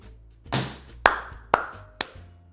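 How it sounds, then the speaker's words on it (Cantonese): Three sharp hand claps ring out close by, evenly spaced about half a second apart after a softer rustle, with a quiet hum underneath. "就變咗3下拍手啦"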